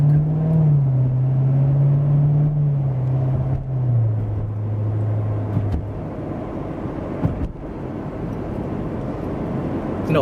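A 2016 Corvette Z51 3LT drives at steady speed, its engine a low sustained drone that slowly drops in pitch, with road and wind rumble continuing beneath and no voices.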